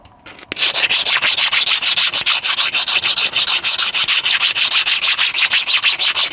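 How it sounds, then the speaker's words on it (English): 60 grit sandpaper wrapped on a paint stick rubs hard back and forth on a forklift part, a loud, close, gritty rasp in fast even strokes that starts after a brief pause and runs without letup. "Took a little 60 grit on a paint stick to it."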